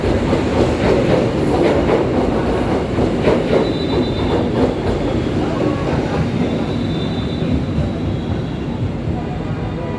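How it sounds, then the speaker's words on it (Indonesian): Gajah Wong passenger train running straight through Yogyakarta station without stopping: a loud, steady rumble of wheels and carriages with rhythmic clickety-clack, faint squeals and a constant roar over about ten seconds. "Kereta api Gajah Wong melintas langsung di stasiun Yogyakarta"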